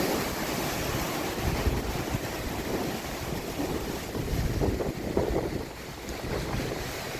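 Steady wind roars across an off-grid homestead in autumn, a loud, constant broadband rush with gusty swells and buffeting against the microphone throughout, no voices.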